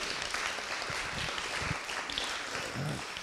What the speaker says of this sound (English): Could we have a round of applause for that?